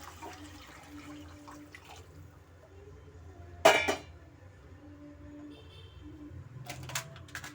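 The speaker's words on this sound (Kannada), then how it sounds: "ಬಿಸಿನೀರು ಸೇರಿಸ್ತಾ ಇದ್ದೀನಿ ನಾನು" Hot water is poured into a pan of vegetable upma, a short, sudden splash and gush amid a quiet kitchen, followed by faint trickles and low background noise.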